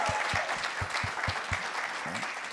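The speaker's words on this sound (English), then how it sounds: "Let's give a round of applause for that" An audience at an on-stage conversation event with the Dallas Mavericks' chief technology officer breaks into brief, moderately loud applause, a dense patter of clapping with sharp individual claps standing out.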